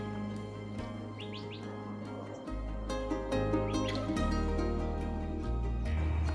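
Birds chirp and tweet in short, bright calls at a bird watching spot in Arizona, heard over steady low-pitched background music.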